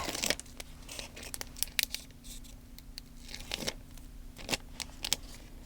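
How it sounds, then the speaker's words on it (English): Release tape peels off a faith journal page in a series of sharp crinkling rips and papery crackles, irregular and close, with a faint low hum underneath. "And then we'll just take the release tape off."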